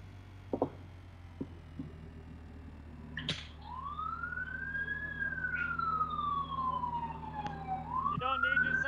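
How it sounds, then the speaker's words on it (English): A police siren in Farming Simulator 17 sweeps up and then slowly down in a single long wail, fairly close, with a few short clicks and thumps before it. "You don't need your sirens on."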